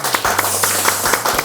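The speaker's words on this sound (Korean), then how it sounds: "박수 한번 치고 할까요?" An audience applauds steadily at a televised panel debate on the SsangYong Motor crisis and its recovery, a dense, continuous patter of many hands without voices.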